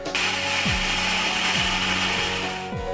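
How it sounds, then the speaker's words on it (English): An electric kitchen grinder coarsely grinds roasted peanuts, starting abruptly into a loud, steady high-pitched motor whir with rattling contents, running alone and cutting off at the end. "Now take a grinder. Add 100 grams of roasted peanut. Coarsely grind them."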